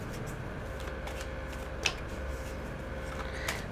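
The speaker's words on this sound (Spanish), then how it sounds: "Cuando me digas, dejo de barajar." Soft, steady riffling of playing cards being shuffled close by, a continuous papery patter with a couple of sharper snaps, no voices.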